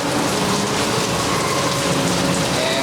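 Steady, dense patter of artificial rain pouring from overhead water spouts at Catastrophe Canyon on a studio backlot tour, continuous and fairly loud with no pauses or voices.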